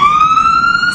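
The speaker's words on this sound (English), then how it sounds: "Sirens blaring all day, one after the next, taking dozens and dozens of overdose victims to the hospital." An emergency vehicle siren blares loud and steady in a sustained, slowly rising wail on an urban street, with no voices.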